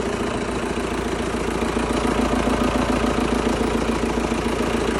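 A 2013 MTZ tractor's diesel engine idles steadily and loudly, with a rhythmic chug and continuous low rumble, close by with no talking.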